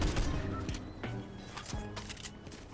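Sniper rifle shots in the Fortnite Reload zero-build mode, loud sharp cracks at about 0.7, 1.05 and 1.75 seconds over continuous game noise.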